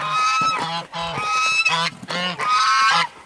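Several geese honk loudly and close by, trading harsh, nasal calls in quick overlapping bursts with brief gaps between them.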